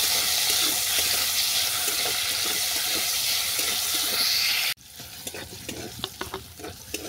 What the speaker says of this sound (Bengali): আর দিলাম গুঁড়ো হলুদ। চিকেনটাকে ভালো করে ভেজে নেব।